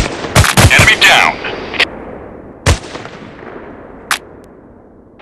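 Gunfire from the mobile shooter game FPS Shooting Gun Strike War 2: a quick cluster of loud, sharp shots early on, followed by a few isolated single shots spread out over the rest of the clip.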